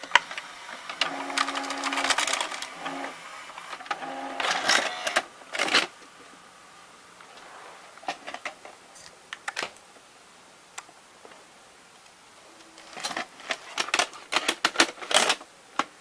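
A VHS camcorder's tape mechanism runs through its eject cycle, giving bursts of close mechanical whirring and clicking separated by quiet gaps, with no speech.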